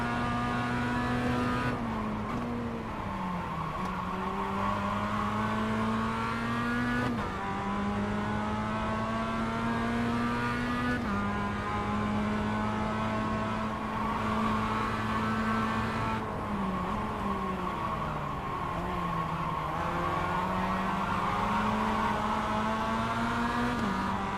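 An advanced Mazda race car in iRacing screams around the St. Petersburg street circuit, its engine climbing through gears and dropping on shifts in a loud, continuous sim-racing drone with occasional tire squeal.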